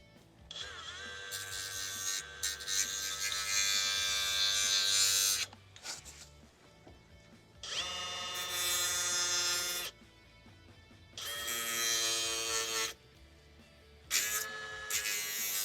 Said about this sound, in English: I'm just going to trim off this little edge of this connector.